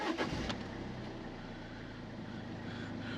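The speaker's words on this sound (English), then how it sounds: "car still starts." A car engine cranks briefly and catches, settling into a low, even idle that hums on quietly and alone.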